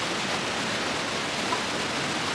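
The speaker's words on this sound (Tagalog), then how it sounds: "Ang ingay nga lang ng tubig, sana naririnig niyo yung boses ko." Broadband roar of the Rhine Falls in Switzerland, thundering water rushing as a steady, dense wash with no pauses, loud and continuous from close by.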